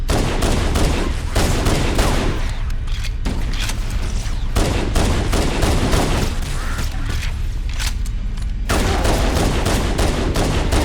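Sustained video game gunfire from Halo: Combat Evolved Anniversary, dense rapid automatic bursts with booming impacts filling the scene loudly, briefly thinning between volleys before resuming.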